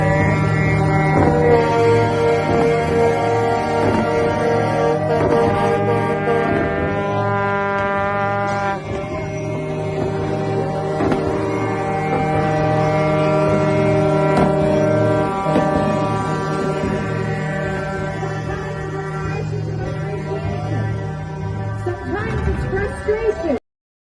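Loud, sustained truck air horns blare continuously at the Ottawa trucker protest, layered steady tones overlapping with other honks throughout, a dense wall of horn noise with crowd sound beneath.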